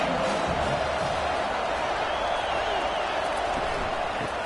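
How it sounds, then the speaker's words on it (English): A college football video game with a stadium crowd roaring steadily near the goal line, a dense, continuous wash of cheering with no breaks and faint whoops inside it. "the crowd really making some noise now, trying to help out this defense to get this stop near the goal line"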